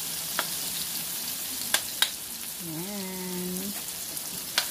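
Tomato sautéing in a hot pan gives a steady close sizzle with occasional small pops and crackles, briefly joined by a short voiced sound partway through.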